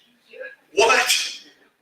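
A single sharp sneeze bursts out after a brief quiet intake of breath, close and loud, during a sermon about the woman at the well.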